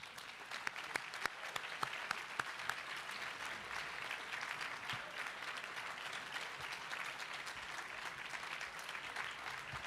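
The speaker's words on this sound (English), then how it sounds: "That's a strong applause." A UN General Assembly audience applauds the first-place winner of an Open Government Awards announcement, with sustained, fairly distant crowd clapping and a few sharper claps near the start.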